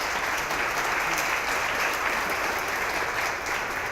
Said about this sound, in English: If we could have an applause for Trevor